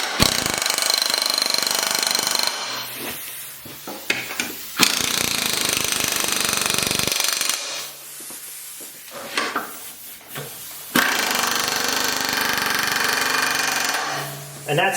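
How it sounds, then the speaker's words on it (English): An impact wrench on its lowest setting tightens the bolts on a lawn mower deck, firing several loud, rattling bursts of a second or two each, separated by brief pauses. "I'm going to go ahead and tighten down my bolts. I'm going to use the impact"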